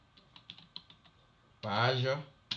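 Keys tapping on a computer keyboard while a header or footer is typed in a word processor: a few light, spaced clicks, then a burst of French speech and another short tap.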